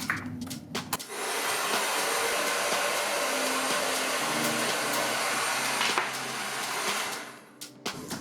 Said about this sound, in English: You can also use a simple vent brush while you're blow drying to make it a little easier.